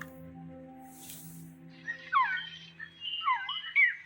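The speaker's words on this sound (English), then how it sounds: "She went out into the jungle to record bird calls and stumbled upon this." A recorded bird call plays inside the Metal Gear Solid Peace Walker video game, with two short bursts of warbling, whistled chirps over a quiet low hum.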